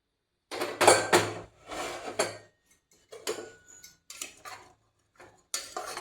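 A pressure cooker of boiled black chickpeas being opened after cooking: several short, close bursts of metallic clatter and hiss, separated by brief pauses.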